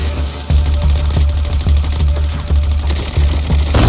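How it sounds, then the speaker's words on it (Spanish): Submachine gun fire in a shooter video game rattles in quick repeated bursts, loud and close, with steady rhythmic shots over a noisy background and no talking. "Aquí se oyen disparos."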